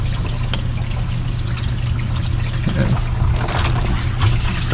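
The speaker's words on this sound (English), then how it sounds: "watch the water pour." Water gushes from an RV sewer dump pipe after the gate valve opens, a loud steady rushing flow with gurgling bursts, close by and continuous with no talk over it.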